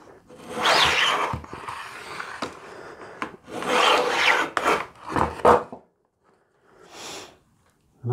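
Close, hand-driven rasping of a hand tool shaving wood down on a guitar fretboard, coming in several long scraping strokes of a few seconds each, then a short lighter pass after a pause.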